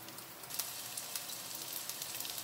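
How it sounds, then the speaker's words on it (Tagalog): Garlic sizzles steadily in hot oil in a pan as the first step of cooking adobong sitaw, string beans with tofu, a bright continuous frying hiss with small pops, close and alone with no talk. "Igisa na po natin ang bawang"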